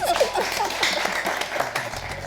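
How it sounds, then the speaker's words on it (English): Audience applause at an interview session, a burst of scattered clapping from a small crowd, moderately loud and close, lasting a couple of seconds. "Give applause."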